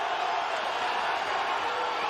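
Boxing arena crowd cheering and roaring continuously during a bout, a loud, dense wash of voices holding steady throughout without pause.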